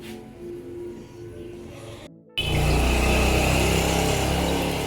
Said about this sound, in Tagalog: Mga ingay gawa ng tricycle.